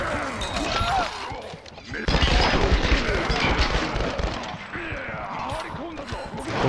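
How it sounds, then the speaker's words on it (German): Gunshots in Tomb Raider, several loud sharp cracks amid a busy combat mix, with a heavier burst around the middle, while someone talks over the action. "dann schießen wir da mal rein"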